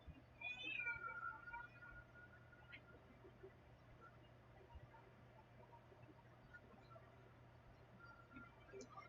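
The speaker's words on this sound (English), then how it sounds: "The cat has come in to announce her presence and to open a door." A cat meows near the start, a couple of short, fairly clear cries indoors, then only a faint room hum remains.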